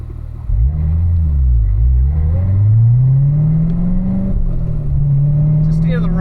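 A car engine revs under a steady, loud drone as it pulls away on a warm-up lap around a race track, its pitch dipping and then climbing smoothly while a voice talks over it.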